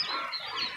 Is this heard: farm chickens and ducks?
yes